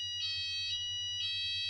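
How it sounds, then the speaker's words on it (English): A fire alarm goes off indoors, giving two bursts of shrill electronic ringing separated by a brief gap, heard faintly at a distance over a low background hum, with no talk. "Oh, fire alarm's going off."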